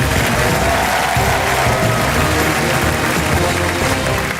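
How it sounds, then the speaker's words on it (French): A television studio audience at a magic show breaks into loud, sustained applause and some cheering for a guest named Anne, a dense, even wash of clapping that fills the whole stretch. "Vous pouvez applaudir Anne."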